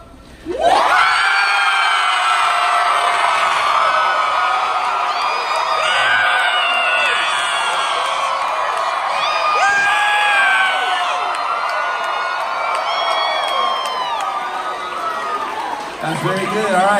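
A large audience at a live pop concert in Phoenix cheers, whoops and shouts continuously for about sixteen seconds, a dense, loud roar of many voices that swells and holds steady before easing off at the end.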